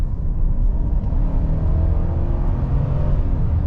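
A 2023 Chevy Silverado RST with the 5.3-liter V8 accelerates hard from a rolling start on a slightly uphill road, its steady, loud engine rumble and drone filling the cabin without a break.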